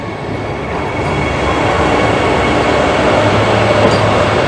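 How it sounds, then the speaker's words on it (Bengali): The Vande Bharat Express pulls out of Howrah station with a loud, close, steady rumble of rolling wheels and carriages that swells slightly as it gathers pace, with no one talking. "এই দেখতে পাচ্ছেন বন্দে ভারত এক্সপ্রেস আপনার ডিপার্ট করছে হাওড়া থেকে"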